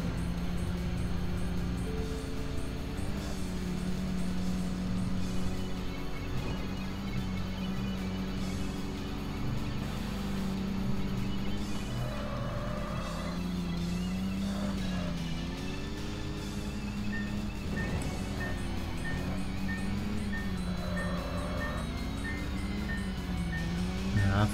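Car engine sound from the racing video game Tokyo Xtreme Racer: a thin, buzzy, lawnmower-like drone with shifting revs, steady and moderately loud throughout, with tonal whines rising and falling as the car accelerates and shifts.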